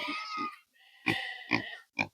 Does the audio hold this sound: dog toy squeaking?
no